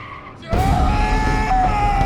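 A car from the film I Am Legend skids with a loud tire screech that rises into a sustained squeal over a roaring engine as it accelerates, close and continuous.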